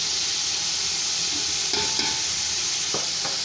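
Spices for Bannu beef pulao roast in a pot under a steady hiss of sizzling, broken by a few scraping stirs of the spoon near the end.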